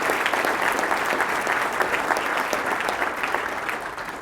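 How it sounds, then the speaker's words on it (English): Sustained, dense applause from an office all-hands audience honoring an award recipient, steady and fairly loud throughout with no voices over it. "Please give Jim a round of applause."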